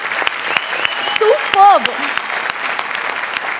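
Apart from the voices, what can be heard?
audience applause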